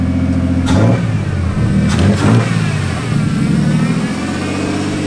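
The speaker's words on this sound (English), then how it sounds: "No misfire, and it idles, and it starts." A big-turbo Nissan Skyline engine cranks and fires, revs briefly, then settles into a steady, loud, lumpy idle, heard close up with no talking.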